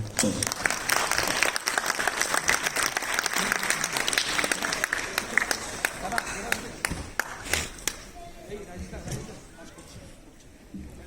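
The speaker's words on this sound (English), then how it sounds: "a huge round of applause ladies and gentlemen" A large audience claps in sustained applause that gradually thins out and fades toward the end.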